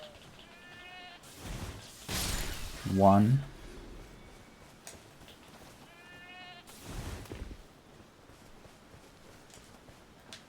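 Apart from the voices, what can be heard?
sheep bleating in the video game Elden Ring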